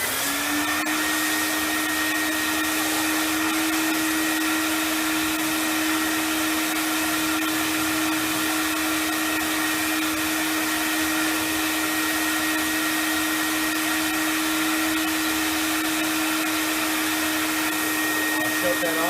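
A Vapor Clean Desiderio Plus carpet extractor runs in vacuum mode with steam and injection on, giving a steady, loud, high whining motor drone that holds unchanged for the whole stretch and shifts slightly only at the very end.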